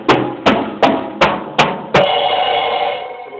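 Drum fill on a drum kit: six evenly spaced sharp hits in a quick steady rhythm, ending on a crash with a ringing cymbal wash that decays, close and loud.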